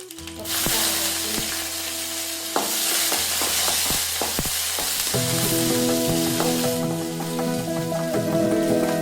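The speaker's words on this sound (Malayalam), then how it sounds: "അതിന് ഞാൻ ലേശം കടുക് ഇട്ട് കൊടുക്കുകയാണ്." Mustard seeds crackle and sizzle in hot oil for tempering a Malabar sambar, with sharp irregular pops over a dense frying hiss and a ringing pan tone late on.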